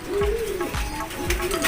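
Racing pigeons coo in three repeated throaty phrases, each a low rolling call that dips and swells, close and clear over faint background chatter.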